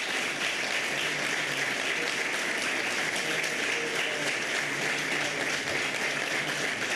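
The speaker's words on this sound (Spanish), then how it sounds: "Fuerte aplauso." A ceremony audience gives loud, dense, continuous applause that fills the whole stretch without pause, heard alone with no voices over it.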